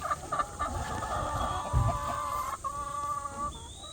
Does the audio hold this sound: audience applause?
no